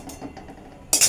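A pot of dal is set on a lit gas stove, a short metallic clink and clatter at the end after a quiet stretch of faint kitchen noise.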